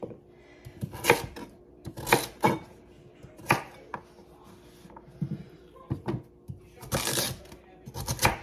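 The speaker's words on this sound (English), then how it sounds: "Just gonna dice them up like little chunks like that." Knife chopping raw sweet potato into chunks on a cutting board, with sharp irregular thuds spaced about a second apart, near and clear, plus faint shuffling between cuts.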